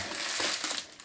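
A plastic shopping bag crinkles and crumples up close while groceries are unpacked at home, a steady dense rustle that lasts about a second with no talk over it.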